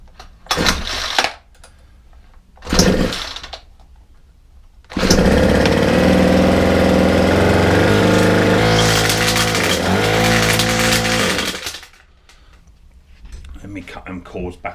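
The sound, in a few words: Ryobi 4-stroke string trimmer engine running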